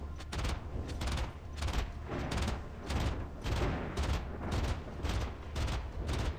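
A Mark 45 naval cannon fires in the Modern Warships game, a steady rapid rhythm of heavy booming shots, roughly two per second, loud and unbroken for the whole stretch.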